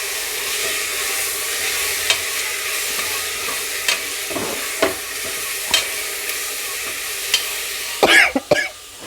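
Tomato frying with masala in a pan for Kerala-style kadala curry makes a steady, close sizzle, broken by soft scraping stirs and a burst of louder clattering near the end, with no talk.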